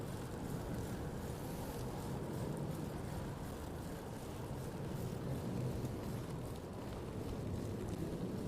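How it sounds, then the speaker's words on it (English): Steady wind roars and buffets against the microphone outdoors on a bike tour in South Korea, a constant broadband rush with no voices. "Can you guys hear the wind at all? It's like, it's going pretty good."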